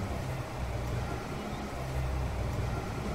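A car engine droning steadily while driving in the Bad Guys At School video game, a continuous low rumble with road-like noise, moderate in level and with no talk over it.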